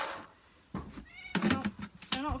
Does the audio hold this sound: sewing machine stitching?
no